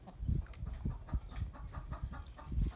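Chickens at a homestead coop cluck in a loose, repeated series of short calls, close by and fairly loud, with no talking over them.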